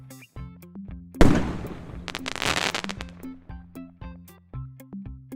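A firework rocket carrying a potion launches in a video game with a sharp whoosh and crackling burst, followed by a fizzing sparkle tail, over a looping game music backdrop.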